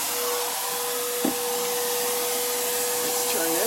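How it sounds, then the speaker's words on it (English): A small vacuum running for a metal coating and etch spray job, a steady loud whirring roar with a faint tonal whine throughout and a brief knock partway, no talking heard. "So I have to turn my little vacuum on."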